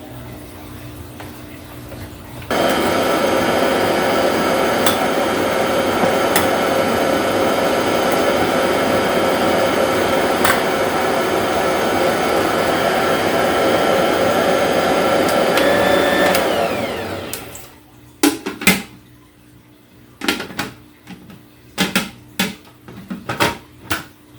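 A loud electric mixer whirs steadily through pound cake batter with four eggs, holding an even, close drone for about fifteen seconds before winding down. A few scattered knocks and clatters follow.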